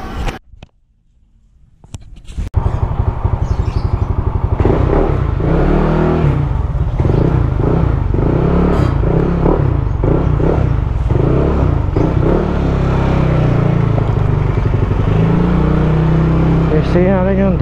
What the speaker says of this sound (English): Test ride din natin siya kung ano yung takbo niya.